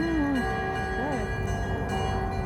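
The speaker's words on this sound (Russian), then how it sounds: "и колокольным звоном" Church bells ringing in Yaroslavl, sustained metallic tones and hums carrying at a moderate distance with a pitch-sliding tone at the start, fairly quiet over a low background murmur.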